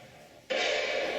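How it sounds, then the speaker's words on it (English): A single sharp smacking sound bursts in abruptly after a quiet moment and holds as a bright, noisy hiss-like burst, close and fairly loud, with no voices. "There's one unit that responds to smacking sounds."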